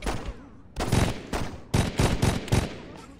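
Rapid bursts of gunfire from guns in Saints Row 2, several loud volleys in an uneven rhythm with short gaps between them, close and punchy, no talking.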